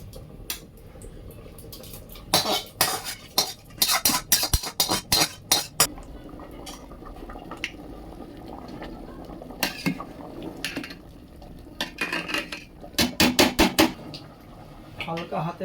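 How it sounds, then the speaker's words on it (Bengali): A spoon stirs jackfruit and potato khichuri with Gobindobhog rice in a metal pot, making bursts of clinking, scraping taps in irregular clusters, close and fairly loud against a quiet kitchen background. "আমার সেই এঁচড় ও আলুর কষাটা"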